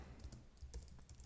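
A short burst of typing on a computer keyboard during a Linux terminal session: a few crisp, quiet key taps in quick succession, alone with no talk.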